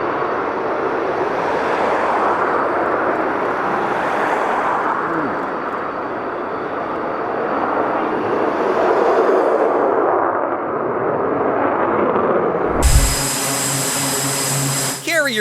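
A carrier jet launches with a sustained, loud roaring rush of engine noise that swells and fades over many seconds, ending in a sharp burst of noise.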